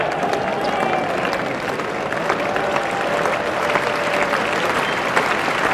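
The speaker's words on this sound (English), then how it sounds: "that's a half century for Alan Border, and very warm applause from the crowd" Spectators at an England versus Australia Test cricket match in 1989 give warm, sustained applause for Allan Border's half century, a broad steady wash of distant clapping across the ground.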